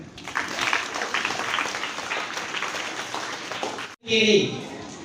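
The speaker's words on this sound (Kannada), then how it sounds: "ಚಪ್ಪಾಳೆ ತಟ್ಟೆ" Audience applause at a yoga event, a steady wash of many hands clapping at moderate loudness that cuts off abruptly, followed by a brief burst of other sound.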